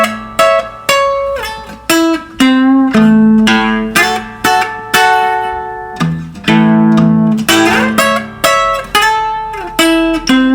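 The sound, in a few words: guitar playing two bars of a blues song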